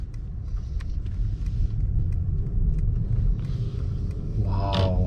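A 2021 Mercedes-Maybach with a V8 engine pulling away, heard from inside as a low steady rumble with a few light clicks and a brief rise near the end.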